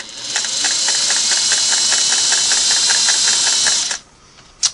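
A Singer 401A sewing machine runs at speed on its longest straight stitch, a loud steady whirring hum with evenly spaced needle clicks, then stops abruptly with one last clunk.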